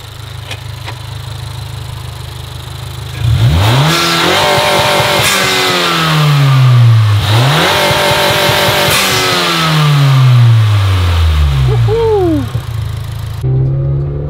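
Loud revving of a 2019 Honda Accord 2.0T sedan with a 6-speed manual, heard from the front: idle, then two sharp throttle blips that swell and fall away, settling back to a steady idle.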